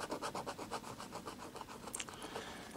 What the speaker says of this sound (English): I'll just scratch straight here.